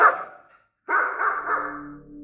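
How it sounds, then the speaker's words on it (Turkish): Dogs bark in a radio drama, two close bursts, a single sharp bark followed by a longer run of overlapping barks, loud and nearby. "Köpeklerin havlama sesini duyar duymaz..."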